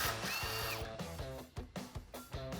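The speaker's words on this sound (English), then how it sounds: "I'm also going to use my impact wrench for this top one." A 10 mm socket on an impact wrench spins a brake line bracket bolt off a Jeep Wrangler JK, short buzzing bursts broken by sharp rattling hammer pulses, close and loud, with no speech.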